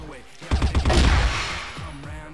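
A sudden burst of rapid gunfire in the video game CrossFire, several loud shots in quick succession that trail off into echoing clatter, with a voice briefly audible underneath.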